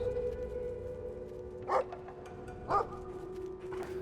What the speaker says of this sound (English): you'll come to a section where we need to distract a dog with each brother